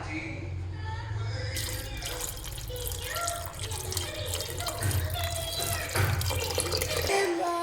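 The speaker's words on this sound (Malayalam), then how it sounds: "ബാക്കി വെള്ളവും കൂടെ ചേർത്ത് കൊടുക്കാം" Water pours into a cooker pot for egg biryani, a steady close splashing flow with drips and a low hum of kitchen background throughout.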